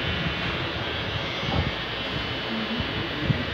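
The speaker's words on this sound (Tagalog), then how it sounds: "Gusto ko yung tunog ng shave na yun." An electric shaver in a barbershop on Dominga Street in Malate, Manila hums in a steady, continuous buzz, with faint room noise and a couple of soft bumps.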